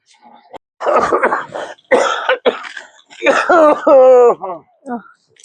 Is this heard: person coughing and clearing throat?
yes